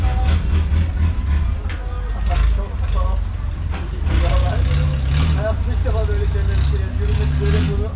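A steady, loud engine rumble drones throughout from a motorboat at Damnoen Saduak floating market in Thailand, with people talking over it.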